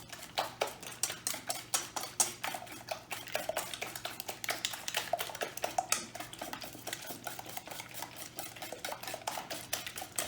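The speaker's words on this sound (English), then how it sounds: "And we mix the pecorino cheese." Grated pecorino cheese is being mixed by hand in a bowl, producing a steady, close run of quick clicking and scraping taps that continues throughout with no talking.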